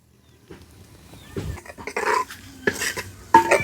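Mustard seeds, fenugreek, cumin and curry leaves tempering in a pan for a Nellore-style fish curry, with crackling and spattering bursts that grow louder and busier, plus clinks of a utensil against the pan.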